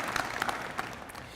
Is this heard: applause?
yes